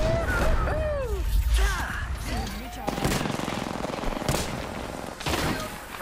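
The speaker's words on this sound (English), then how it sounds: "Someone shot me from afar, I think." Bursts of rapid gunfire from the Apex Legends video game, Spitfire machine gun included, crackling under whooshing ability effects and a talking player, with sharper shots toward the end.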